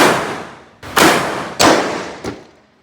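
Three sharp, loud shotgun blasts ring out at a shooting range in Krabi, Thailand, each with a booming decay, spaced under a second apart, the last one shorter and fainter.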